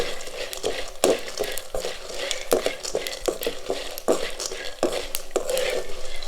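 Dried turkey berries frying in a pan, a steady crackling sizzle broken by repeated sharp scrapes and clinks of a spoon stirring, close and loud.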